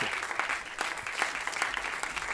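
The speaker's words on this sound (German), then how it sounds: "das ist auf jeden Fall ein Applaus wert" A studio audience at a German talk show breaks into brief, dense applause. The clapping stays loud and even throughout, with a faint murmur from the crowd.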